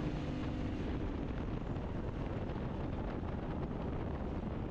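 Yamaha Ténéré 700 Rally ridden briskly through faster bends on a country road, heavy steady wind buffeting the microphone with a constant low roar and no speech.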